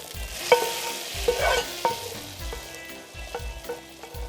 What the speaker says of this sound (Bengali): আমাদের পেঁয়াজের ফোড়নটা হয়ে গেছে আমরা এখন এটাকে এটার মধ্যে ঢেলে দিব